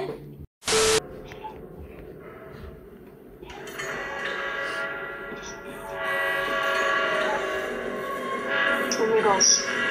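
A train in the Roblox game The Train Tunnels sounds a sharp horn blast, then rumbles past in a growing, sustained roar with rattling wagons, while players talk.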